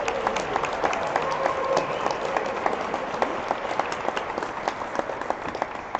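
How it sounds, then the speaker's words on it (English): A crowd at the 2021 Creative Lives Awards applauds Robin Simpson with steady, sustained clapping from many hands, filling the hall evenly for all six seconds without a voice over it. "Big round of applause for Robin, please."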